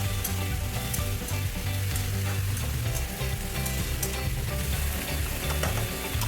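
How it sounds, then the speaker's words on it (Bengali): Diced potatoes and onions fry in a pan, giving a loud, continuous close-up sizzle with faint crackles throughout and no talk. "আলু আর পেঁয়াজটাকে একটু ভালো করে ভাজতে হবে।"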